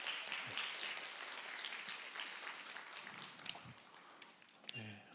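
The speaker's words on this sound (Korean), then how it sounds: "우리 귀한 특순으로 섬겨주신 분들에게 다시 한번 감사의 박수하겠습니다." A church youth service congregation claps in thanks for the performers of a special musical offering, a steady wash of applause filling the room for several seconds with a few louder claps standing out near the end.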